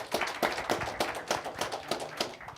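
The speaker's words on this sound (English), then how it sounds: "So please, big round of applause for our panel." A conference audience at a data security panel claps in quick rhythmic bursts, sounding like a modest group applauding nearby.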